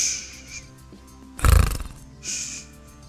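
A snoring sound in the Minecraft video game: a single loud, rough snort in the middle, framed by softer breathy tones before and after, with no talking.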